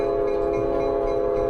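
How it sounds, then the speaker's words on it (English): A train rolling by in a continuous, loud, steady drone with a sustained tonal hum, close and unbroken for the whole moment, no voices. "There's a train coming"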